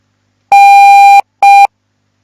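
A Morse code tone spelling the letter N: one long dah followed after a short gap by one brief dit, a loud, clean, steady pitch standing alone in silence.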